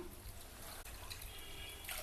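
Water is poured into wheat flour for halwa, a soft, quiet, steady trickle heard alone in a kitchen.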